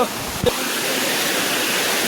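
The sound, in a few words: waterfall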